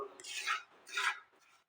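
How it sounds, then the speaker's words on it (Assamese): Semolina is stirred while it roasts in a pan over a low flame for an Assamese suji laru. Two soft scraping strokes of a spoon against the pan are followed by a faint third, quiet and close. "এইখিনি মই ল' ফ্লেমত আকৌ 2 মিনিট সময় এইদৰে ভাজি ল'ম।"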